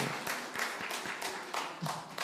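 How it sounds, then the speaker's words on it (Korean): A small church congregation claps in a quick, fairly soft burst, the individual claps irregular and close together, briefly sustained before trailing off. "박수해 주시기 바랍니다"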